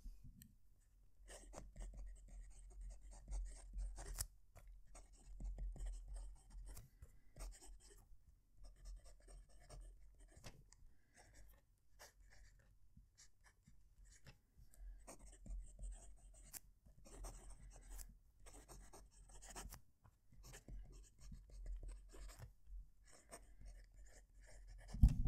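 Moonman M800 fountain pen fitted with a Moonman nib writing on paper, a faint, scratchy scraping of nib on page in irregular strokes and pauses, heard alone close up.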